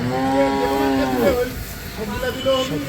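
A cow at a cattle market lets out one long, loud, close moo that rises and falls, followed by livestock and crowd noise with people talking in the background.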